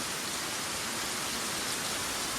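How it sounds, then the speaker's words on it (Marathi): Heavy monsoon downpour on the road home from the forest in the Konkan, near Kankavli, a steady dense roar of rain filling the air without a break, with no voices over it. "पाऊस बघा तुफान पडता परत एकदा सुरू झालो"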